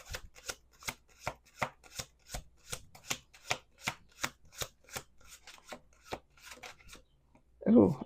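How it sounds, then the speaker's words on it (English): Tarot cards being shuffled close up on a table, a steady run of crisp rhythmic riffles and taps, quiet overall, ending with a brief low sound. "We're going to do 2 more shuffles"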